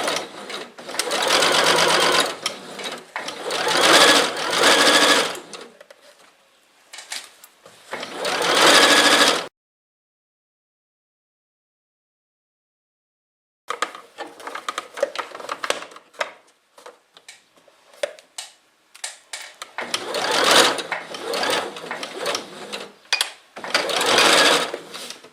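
Sewing machine running in several long bursts while stitching the seam of an embroidered kimono poncho, loud and close, with a pause of silence midway and no voices.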